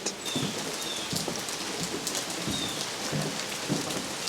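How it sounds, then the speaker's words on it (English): Steady rain falls outdoors on a cold, rainy day, a constant close patter on surfaces with no talking. "It's cold and rainy."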